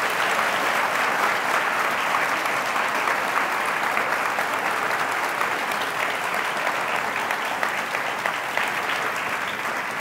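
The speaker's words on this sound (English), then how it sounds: "to applaud once more as if Atul's just finished his lecture" Sustained applause from a lecture audience, a thick, even roar of many hands clapping that holds steady at full strength for about ten seconds without voices.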